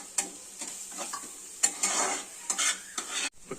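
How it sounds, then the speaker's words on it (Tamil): Onions sautéing in a pan with chili powder, turmeric and Maggi masala, a soft hiss of frying under scraping stirring strokes from a spoon, with occasional clinks against the pan. "வெங்காயத்தோடு சேர்த்து நல்லா வந்து வதக்கிக்கணும்."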